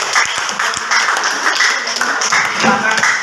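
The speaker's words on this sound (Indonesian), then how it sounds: "tepuk tangan kelompok 1." A group of students claps for the first team in a classroom, a brief burst of scattered hand claps mixed with voices talking over it.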